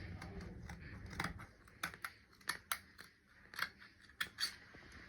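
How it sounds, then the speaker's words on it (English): Scissors cutting Ankara fabric for a kaftan, a close series of crisp snipping clicks in an uneven rhythm, quiet and alone after a soft rustle at the start. "to cut out the front neck"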